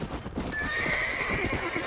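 A horse in the Red Dead Redemption video game whinnies with a long, bright neigh over a steady, close clip-clop of hooves, with no talk.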